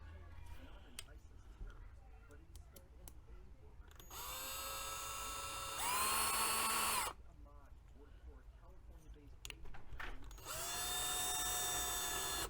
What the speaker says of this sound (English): for right now, time purposes, we're using the Ryobi drill. Get these screws in here.